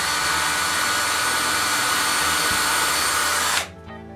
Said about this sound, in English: Then I measure and drill holes that will fix the tabletop to the base.